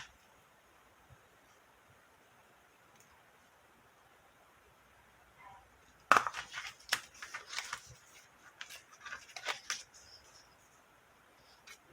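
Paper cut down with scissors or a blade to make the base of an ephemera folio pad, a quiet run of close, crisp snips and rustles starting halfway through after near silence.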